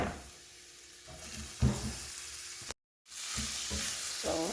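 Onions hit hot oil in a pot for a vegetable lentil soup, crackling into a bright, close sizzle with a brief dropout midway before the frying resumes, busy and unbroken.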